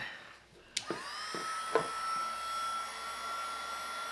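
Haisstronica 350W mini heat gun clicks on after a few small handling knocks, then settles into a steady whirring fan hum with a thin high tone, running continuously close by.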